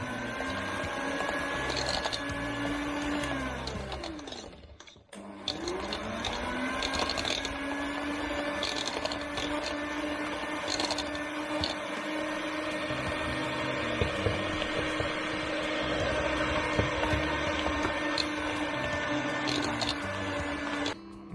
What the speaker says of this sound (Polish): Mikser